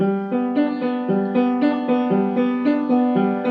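Piano notes repeat in an even rhythmic chord pattern from a song, played close and clearly, several cycles in a few seconds without talking.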